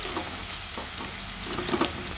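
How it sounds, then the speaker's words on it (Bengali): Grated onions frying in hot oil with whole garam masala and a bay leaf: a steady sizzle throughout with occasional scraping stirs, close and moderately loud, no talking. "এই তেলে গোটা গরম মশলা ফোড়ন দেবো, একটা তেজপাতা ফোড়ন দেবো, পেঁয়াজটা গ্রেট করা আছে এটা দিয়ে দেবো। ভালো করে পেঁয়াজগুলো ভেজে নেব।"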